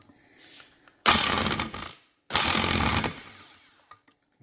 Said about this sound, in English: we're gonna use an impact here to release this nut